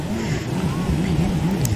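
A steamboat gathering speed on the water: a steady engine drone with a slowly wavering low tone, fairly loud and continuous throughout the short stretch.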